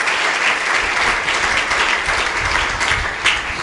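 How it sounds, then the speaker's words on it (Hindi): Loud, sustained applause from a crowd of devotees at a religious gathering at Govardhan Math in Puri, a dense continuous clatter of many hands with no voices over it. "एक बार पुनः जोरदार तालियां"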